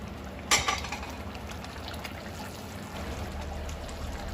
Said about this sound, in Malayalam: ഇനി നമുക്ക് ഗ്രേവിക്ക് ആവശ്യമായിട്ടുള്ള വെള്ളം ഒഴിച്ചു കൊടുക്കാം